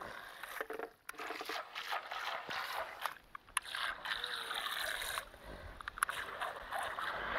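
A ₹900 toy RC boat runs on water, its small motor buzzing continuously up close with light splashing and sloshing, with occasional voices underneath.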